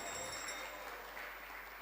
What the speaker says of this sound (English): Can we give a big Haribol round of applause to Prabhu?